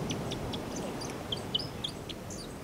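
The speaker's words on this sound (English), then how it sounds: "And you can hear the birds in the background." Birds, including robins and a kaka, call faintly against steady background noise on Ulva Island, short high chirps and whistles scattered irregularly, a bit more frequent toward the end.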